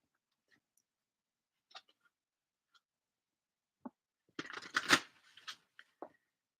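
Tarot cards being handled and shuffled in a quiet room: a few scattered soft taps, then a short, close riffling burst of card noise and a couple of final clicks.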